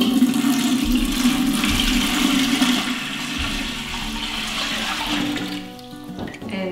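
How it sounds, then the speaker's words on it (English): Red-dyed water is poured into the top chamber of a Berkey filter, a continuous gushing, splashing flow that runs for several seconds and then tapers off. "And now I'm just going to pour it into the top chamber."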